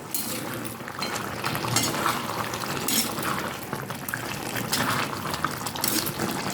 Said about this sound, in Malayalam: എന്നിട്ട് നന്നായിട്ടൊന്ന് ഇളക്കി യോജിപ്പിക്കുക